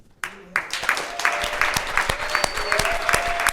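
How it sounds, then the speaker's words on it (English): Conference audience applauds a community panel at a city health event, a burst of clapping that starts sharply and continues steadily with distinct individual claps, fairly close and moderately loud. "Why doesn't everyone give them a round of applause?"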